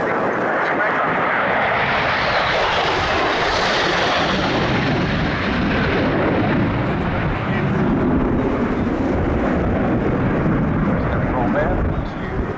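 A military jet roars loudly and continuously overhead at the RIAT 2023 airshow, the broadband engine noise swelling and fading as the aircraft passes, with an announcer talking over it.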